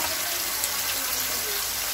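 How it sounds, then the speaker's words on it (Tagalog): Two glasses of hot water poured into a cooking pot for caldereta sa gata, a steady, close, rushing splash of liquid that runs evenly throughout. "Dalawang basong tubig para lumambot."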